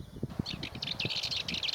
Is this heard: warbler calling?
yes